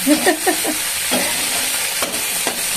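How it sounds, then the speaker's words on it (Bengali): Gourd and fish curry is stirred in a hot pan, a loud steady frying sizzle with close scraping strokes of the utensil, a few sharper knocks near the start. "নাড়াচাড়া করে দিচ্ছি"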